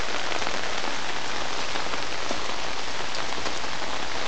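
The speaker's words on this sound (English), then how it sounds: "the last look at the miserable rain" Steady rain falls outdoors in a Scottish garden, a dense, even hiss of drops hitting surfaces that stays constant and fairly loud throughout, with no voices.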